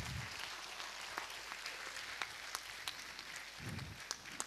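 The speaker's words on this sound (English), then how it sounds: "Let's give a big round of applause for all of them" Faint, sparse applause from a preschool annual day show audience, scattered individual claps standing out over a soft background with a couple of low murmurs.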